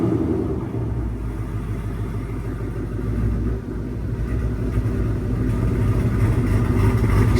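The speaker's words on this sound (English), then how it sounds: "it should lower it faster and get right into like loping and making all the cam noises everyone likes" A 2024 Ford Mustang Dark Horse with a ghost cam tune idles steadily, a continuous deep low rumble with an uneven loping pulse, close and fairly loud with no talking.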